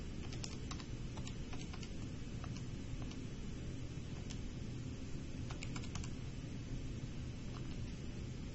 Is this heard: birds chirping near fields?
no